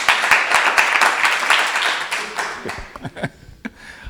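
Crowd applause at an ISKCON lecture fades out, dense clapping at first that thins into a few scattered claps near the end.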